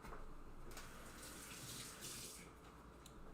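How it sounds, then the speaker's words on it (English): Running tap water pours steadily over fingers during a rinse, a soft continuous splash at close range with no talk. "Let me rinse my fingers."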